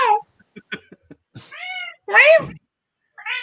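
A person imitates a cat with a few drawn-out, high meows, loud and close, separated by short bursts of speech.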